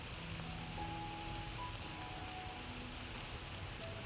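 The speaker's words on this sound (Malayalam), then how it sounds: "ചെറിയ മഴയൊക്കെ പെയ്തു തുടങ്ങി" Light rain falls at Trivandrum Zoo in India, a steady soft patter of drops across the whole stretch with no voices, faint calls threading through the wash.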